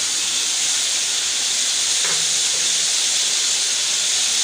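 Steady, loud hiss of steam from a pan of frying chicken chorchori, continuous and close, with a faint clink partway through.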